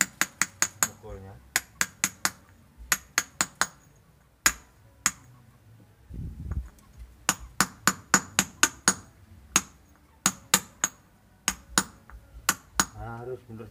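A hammer strikes metal in repeated sharp clusters while a keris housing is shaped by hand, the blows coming in quick bursts of four or five with brief pauses and a short pause for other handling midway.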